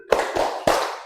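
Three sharp hand claps in a slow rhythm in a classroom, each loud and close with a short ringing decay after it.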